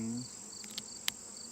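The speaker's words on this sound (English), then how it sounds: "They're just being bees, doing bees things." A steady drone with a high whine from honey bees buzzing in an open hive close by, continuous and fairly quiet with a couple of brief clicks.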